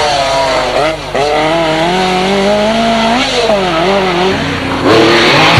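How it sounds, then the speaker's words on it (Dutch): A Lancia rally car races at the 1985 Bianchi Rallye in Beaumont, Belgium, its engine loud and close, revving up and down through the gears in a continuous, rising and falling rasping wail. "De Lancia Rally van Patrick Snijders"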